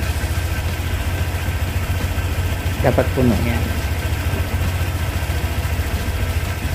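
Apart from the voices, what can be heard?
Honda Click 125i scooter engine idling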